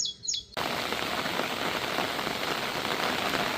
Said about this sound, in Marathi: चालू झाला अजून पाऊस.